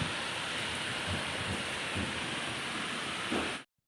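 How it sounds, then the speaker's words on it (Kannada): Heavy rain falls in a dense, even hiss, steady and close, with faint low thumps underneath, before stopping abruptly near the end. "ಮಳೆ ಬಂತಲ್ಲ ಹಂಗೆ ಇದೊಂದು ಕ್ಲಿಪ್ಸ್ ಶೇರ್ ಮಾಡತ್ತೀನಿ ನಿಮ್ಮ ಜೊತೆಗೆ"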